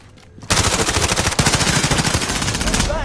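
Warzone gunfire shoots through a wall: after a brief quiet start, a loud, rapid automatic burst of shots rattles steadily for nearly three seconds, close and sustained.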